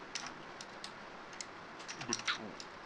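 Light, irregular clicks of keys being tapped on a keyboard, fairly quiet, with a brief flurry of louder taps near the end.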